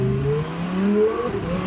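A twin-turbocharged Lamborghini drives along steadily, its engine note droning loud and close for the whole stretch, with a rising pitch that suggests mild acceleration.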